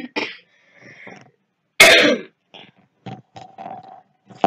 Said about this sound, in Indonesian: Maaf, saya agak batuk ya.